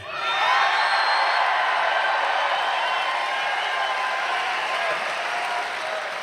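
Rally crowd at a Donald Trump event in Rapid City, South Dakota, cheering and applauding loudly and steadily, a dense roar of whoops and clapping sustained throughout with some voices shouting within it.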